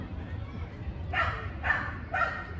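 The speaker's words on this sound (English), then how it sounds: "Wow, that dog is so loud." A dog barks loudly three times in quick succession, sharp yapping bursts over a low background rumble, with a person talking around them.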